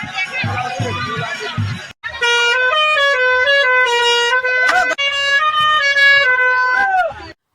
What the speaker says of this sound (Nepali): भर्खरै बजिरहेको गाडीको हर्नले के बुझ्नुभयो